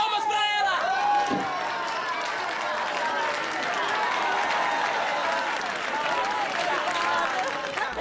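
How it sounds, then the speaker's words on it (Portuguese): Studio audience applauding an actress at a birthday celebration on a 2014 Brazilian TV talk show, a steady dense wash of clapping with crowd noise and voices mixed in throughout. "Palmas para ela!"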